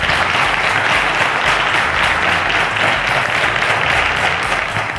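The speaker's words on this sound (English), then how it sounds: "Ladies and gentlemen, a round of applause and congratulations to our 2016 Cowbellpedia Mathematics Quiz Champion in the junior category, the one and only Jul" Audience at a televised mathematics quiz show final gives a sustained, loud round of applause, dense even clapping that fills the room from start to finish.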